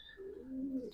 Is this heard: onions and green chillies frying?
no